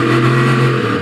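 An IMSA GTLM race car engine at Long Beach, heard from on board: a steady, loud mid-pitched drone with the throttle held partly open and gently feathered, no speech.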